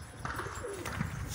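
A Kabuli pigeon held in a hand gives a soft, low coo, close but faint, with light rustling around it.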